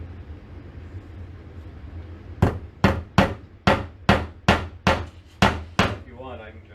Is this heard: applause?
no